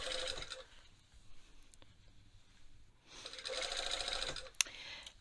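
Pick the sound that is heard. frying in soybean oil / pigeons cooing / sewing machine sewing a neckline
sewing machine sewing a neckline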